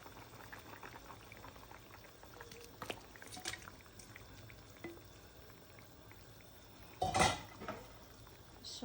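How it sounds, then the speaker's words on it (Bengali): Fish going into simmering curry broth in a pot: constant soft bubbling, light clinks of utensils, and a brief, louder splash near the end, with no talking. "সব মাছগুলো দিয়ে দিলাম ঝোলে।"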